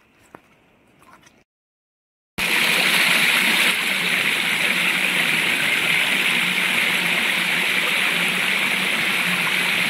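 Quiet sounds and a short silence give way to a loud, continuous rush of floodwater flowing over a road, steady and close, after a cloudburst in Vaibhavwadi.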